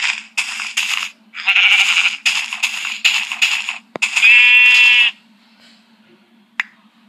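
Sheep bleat repeatedly in Minecraft, a video game, with short nasal calls in bursts, alongside quick clicks from shears cropping wool and a single sharp tap near the end; no one speaks.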